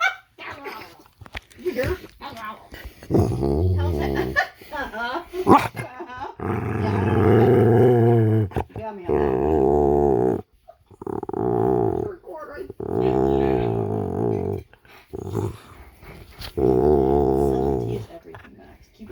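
A dog growls and barks in long, loud, rumbling stretches that alternate with short gaps, close up and dominating the scene, while a person speaks briefly.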